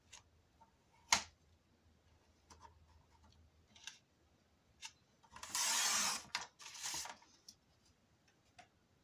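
Paper for a handmade album being cut to 8 cm, with a few soft clicks and taps from the cutter, then two bursts of sharp slicing and scraping near the middle, close and fairly quiet, with no talking.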